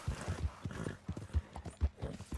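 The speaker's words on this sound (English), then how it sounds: "What's up with my horse right now?" Horse hooves clip-clop in a quick irregular rhythm with a brief whinny from a skittish mare in Red Dead Redemption II, close and fairly loud.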